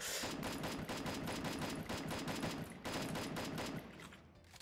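Rapid, sustained bursts of automatic gunfire in Free Fire, loud and continuous with a brief break near the end.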